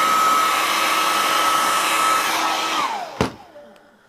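A hair dryer blows steadily over a watercolour painting, a loud continuous whir that winds down near the end, followed by a sharp click as it switches off.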